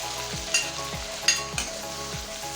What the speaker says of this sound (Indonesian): Baru kita masukkan cabai sama tomatnya ya sob.